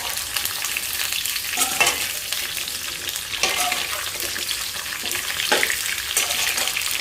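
Food fries in oil with a continuous sizzle, broken by periodic scraping stirs every couple of seconds, close and fairly loud.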